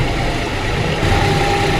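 A tractor engine runs steadily on the way to the farm field, a loud close mechanical drone with a low rumble that swells slightly near the end.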